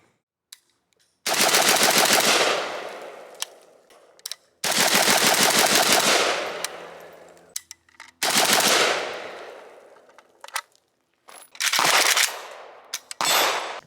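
Chinese Type 56 AK rifle fired in four long full-auto bursts, loud and close, each rapid string of shots separated by brief pauses with a few scattered single shots and echo between.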